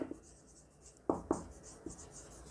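Chalk or marker writing on a board during a trigonometry lesson, heard as a few sharp, separate taps and strokes spaced irregularly, fairly close and with no voice over them.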